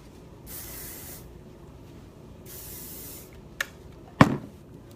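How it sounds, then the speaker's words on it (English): Hairspray from an aerosol can misted over curled hair in two separate hissing bursts, each about a second long, followed by a couple of sharp knocks as the can is set down. "Then I'm gonna spray."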